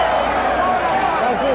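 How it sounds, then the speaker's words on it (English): Brief burst of steady crowd roar at ringside during the Ali–Berbick boxing match, loud and unbroken, with someone speaking over it. "The crowd has kept up a bedlam since this fight started."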